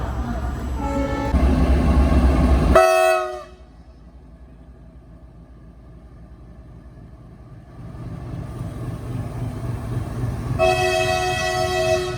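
Fazilka Delhi Intercity Express pulling away from Dhuri Junction after a two-minute halt, heard from aboard: a horn blast at the start, then a hushed rolling rumble, and a second sustained horn near the end.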